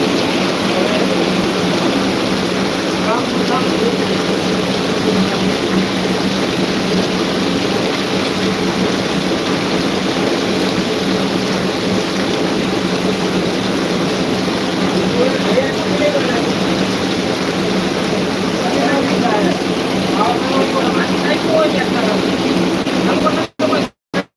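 Heavy, continuous downpour in Jamkandorna, a dense steady roar of rain drumming on surfaces that fills the whole stretch at high level, with faint voices underneath and a couple of abrupt cut-outs at the very end.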